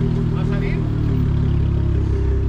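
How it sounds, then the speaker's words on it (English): An aftermarket exhaust on a V6 Dodge Challenger rumbles with a deep, steady drone from the engine held at fairly constant revs, with a voice briefly heard over it. "I could not be more happy with the exhaust as it is right now"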